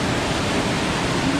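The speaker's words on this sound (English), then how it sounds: "There's another waterfall right here that's quite pretty, and then it comes into a pool." A waterfall at the top of Winniweta Falls in the White Mountains pours into a pool, making a loud, steady, close rush of broadband water noise with no voices.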